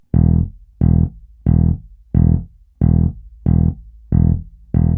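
Synth bass playing a ground E riff in the style of a funk classic, a punchy tone repeating eight even, tight stabs that are loud, close and stand alone.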